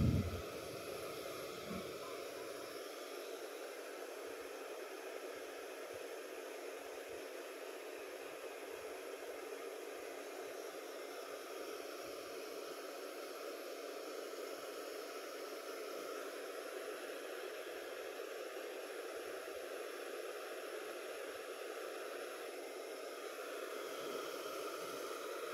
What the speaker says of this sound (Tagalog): Gustong gusto niya talaga yung blower.